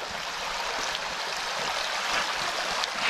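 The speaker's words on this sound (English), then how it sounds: "I have no idea what creek this is. It's beautiful." A forest creek along a valley hiking trail rushes steadily nearby, a dense, continuous wash of flowing water with no voices.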